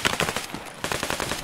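Automatic gunfire in Escape From Tarkov, two rapid bursts of sharp, closely spaced shots separated by a short gap, loud and near with no talk.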